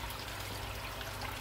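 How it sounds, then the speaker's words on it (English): Water trickles over a stainless steel spillway into a garden pond, a steady close splashing flow with a low rumble underneath, running evenly without pause. "Stainless steel spillway."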